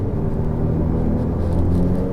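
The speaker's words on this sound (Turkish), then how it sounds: "Gaza bastın turbolar basmaya başlıyor" A 720-horsepower Ferrari F8 Tributo accelerates with its turbos spooling, giving a steady, heavy low engine rumble and whir that holds at a constant loud level.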